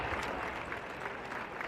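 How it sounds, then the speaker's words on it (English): Crowd applause for two scholar athlete award winners during a halftime show at a 2001 college men's basketball championship semifinal, steady broadband clapping filling the whole short stretch at moderate loudness. "How about a nice round of applause for both of our Scholar Athlete Award winners."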